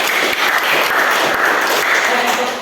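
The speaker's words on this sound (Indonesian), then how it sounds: "Mari kita tepuk tangan untuk" A classroom of students applauds a group after their discussion presentation, a loud, close, continuous burst of many hands clapping with faint voices mixed in.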